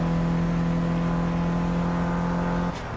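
A time attack car runs steadily through a corner on track, its engine droning loud and constant with a strong tonal whine that drops away abruptly near the end.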